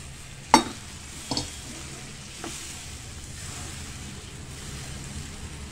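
Tamarind juice goes into a pot of simmering chamagadda (taro root) pulusu with bay leaves, landing in one sharp splash and clatter, then two softer knocks of stirring before a low, steady simmer hiss.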